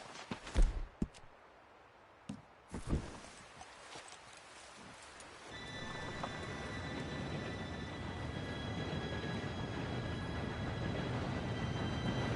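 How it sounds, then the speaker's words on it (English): A train arrives: a few sharp knocks and thumps come first, then a steady rumble sets in and grows, with a high metallic whine riding on top as it draws near and keeps rolling. "Train should be here any minute now."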